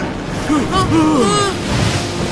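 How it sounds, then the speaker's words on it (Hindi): Rough ocean waves churned up by an undersea earthquake make a loud, steady roaring wash, with someone talking over the surf throughout. "समंदर के अंदर ज़लज़ला आया है और अब हर सेकंड ये लहरें बड़ी और तेज हो जाएंगी"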